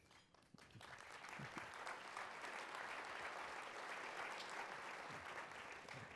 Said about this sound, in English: If you applaud too much, it's going to go longer and longer